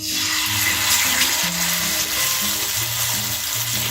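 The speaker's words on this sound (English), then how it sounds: "I have my little fajita pan, which is cast iron, and I got the oil heating up" Chicken pieces sizzle skin down in hot avocado oil in a cast iron fajita pan, a loud, steady, close frying hiss with crackles throughout, no voices.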